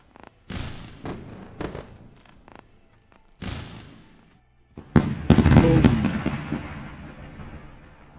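Fireworks burst in a series of sharp, loud bangs and crackles spaced over several seconds, ending in a dense, rumbling volley that slowly decays. No one speaks.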